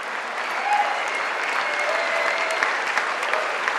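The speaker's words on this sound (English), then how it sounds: "One half of the room cheering." A room full of people, including members of Congress, applauds and cheers, steady dense clapping with a few whoops rising above it throughout, heard at moderate distance.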